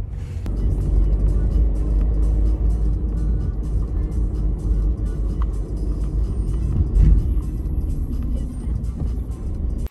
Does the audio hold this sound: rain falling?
no